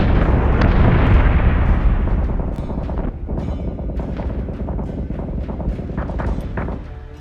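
Warship batteries in Battlestar Galactica Deadlock open fire: a heavy, booming barrage at the start fades into a dense run of sharp pops and bursts that continues throughout.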